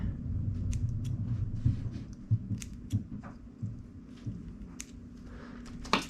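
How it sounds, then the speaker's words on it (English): Small scissors snip along the edge of a leathery corn snake egg at hatching, giving a series of soft, close clicks and crunches spread through a quiet background hum. "Cut right along the edge of the egg."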